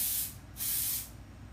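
Two quick, close hissing bursts from a Yara fragrance perfume bottle's spray nozzle, with a brief pause between them and no talking over them.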